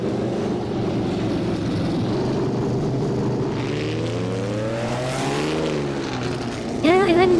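A racing car engine in a video game race roars steadily up close, with rising and falling revs as it accelerates and shifts, joined near the end by a sharper, higher-pitched engine passing.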